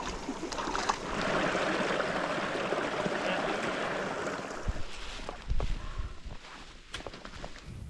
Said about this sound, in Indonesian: Sungai yang kami lalui di jalur ini airnya mengandung belerang dan tidak layak minum